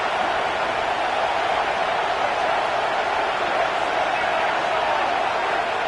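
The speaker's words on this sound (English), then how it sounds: "This crowd, full throat, splitting the eardrums and letting them know it's going to be a long day." A packed stadium crowd at a Florida State football game roars continuously as a loud, even wall of noise that holds without a break, with no distinct voices standing out.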